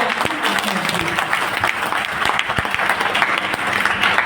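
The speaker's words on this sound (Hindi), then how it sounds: "आप सबके प्रकल्प को भी एक बार तालियां बजाकर ये बताइए" An audience at a live poetry reading applauds throughout, dense steady clapping filling the room, with a voice speaking over it at times.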